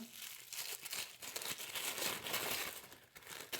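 A small plastic bag of disposable gloves is pulled out and handled, giving steady close crinkling and rustling with brief sharper crackles throughout, no voice.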